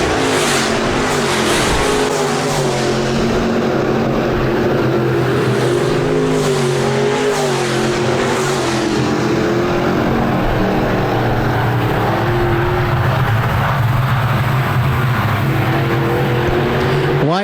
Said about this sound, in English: Grass, Sage, and Edwardson battling it out back in the pack